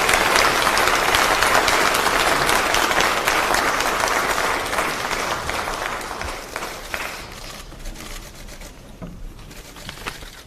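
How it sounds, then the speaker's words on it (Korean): A meeting crowd applauds the arrival of presidential candidate Kim Moon-soo at a party caucus gathering, dense clapping that starts loud and full, then thins and fades over about ten seconds to scattered claps. "여러분 오늘 박수로 맞이해주시기 바랍니다."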